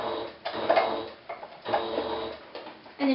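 A sewing machine stitches a fabric strap in short, quiet bursts of rapid mechanical chatter, pausing briefly between runs, heard close up with no talking.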